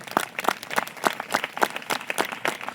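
A church congregation at a Christmas prayer festival clapping loudly together in a steady rhythmic beat, sharp repeated claps filling the room with no talk.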